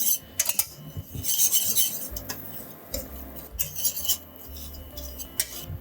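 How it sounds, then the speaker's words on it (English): A whisk scraping and clinking rapidly against a pan while stirring a flour roux for creamed spinach, irregular metallic ticks and rasps up close, moderately quiet with no talk. "I like to make sure that I'm constantly whisking so we don't burn anything and it all cooks nice and evenly."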